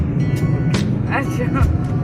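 Car driving on roads in Assam, a steady engine and road rumble heard from inside the vehicle, with people talking over it.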